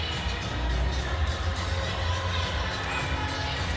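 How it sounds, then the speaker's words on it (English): An arena crowd at a Buffalo versus Montreal hockey game applauds and cheers in a steady, dense wash of noise that holds for several seconds, heard from a distance in the stands. "Round of applause to the trivia question people on that one."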